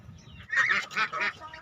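Domestic ducks, chickens and muscovy ducks call out at feeding time, a short burst of loud, nasal honking and quacking of several close birds.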